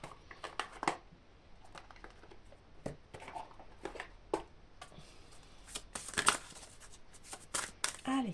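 An oracle deck of goddess cards is shuffled in a quiet room: soft, faint riffles and flicks of cards come in short, irregular bursts.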